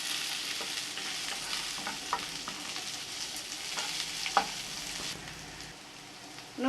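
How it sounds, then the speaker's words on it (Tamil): A sprig of curry leaves sautéing for cluster bean poriyal, with a steady hissing sizzle and scattered stirring scrapes throughout, close and fairly loud. "ஒரு கொத்து கருவேப்பிலை சேர்த்துக்கலாம். இதையும் சேர்த்து நல்லா வதக்கிக்கலாம்."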